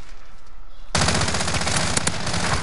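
Rapid automatic gunfire in Warzone erupts suddenly after a near-silent moment, a loud, dense burst of shots running continuously to the end.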